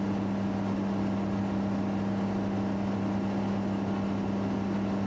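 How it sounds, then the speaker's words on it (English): A Cessna C206 Stationair's single piston engine in the game Flight Simulator X gives a steady, loud, droning hum. The pitch stays even throughout, with no voices over it. "I do like the sound of that engine though."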